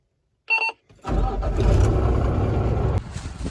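A truck engine cranks and catches after a short beep, then settles into a steady, loud, close idle-to-rumble that continues without talk.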